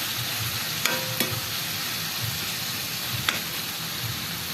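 Vegetables and tomatoes sautéing in a frying pan give a steady, close hiss of sizzling, with a few sharp clinks of a stirring utensil against the pan and no voices.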